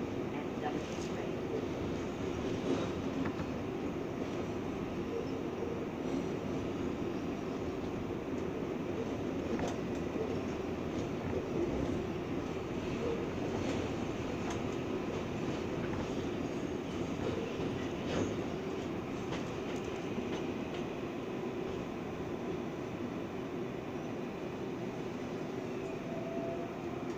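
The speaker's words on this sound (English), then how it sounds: "This is a Flushing Main Street bound 7 Express train." A New York City subway R188 7 Express train bound for Flushing–Main Street runs at speed, with a steady, loud rumble and wheel roar that carries on without a break.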